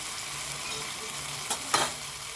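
Chopped tomato goes into a pan of hot masala in a Gujarati home kitchen, giving a steady, close sizzle with two brief bursts of louder spattering as it is stirred.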